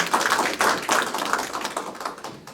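Applause from a conference audience greeting the opening declaration of the 4th Northeast Asia Peace International Conference, a dense patter of many hands clapping steadily for a couple of seconds, close and fairly loud.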